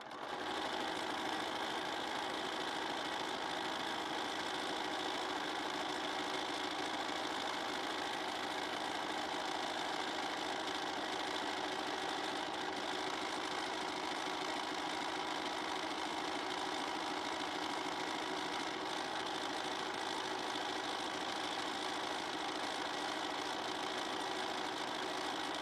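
A sewing machine steadily stitching a quilted postcard, its motor humming and whirring continuously and evenly at close range with no pause or talk.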